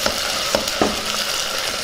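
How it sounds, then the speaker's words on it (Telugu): Onions frying with ginger garlic paste in a pan make a brief, steady sizzle with a couple of light stirring scrapes, heard up close and without talk. "వీటిని బాగా వేయించుకుందాం."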